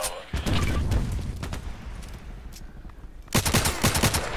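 Rapid bursts of automatic gunfire from hip firing in the shooter game Contract Wars, loud and close, in two clusters separated by a quieter stretch, with the second burst dense and sustained.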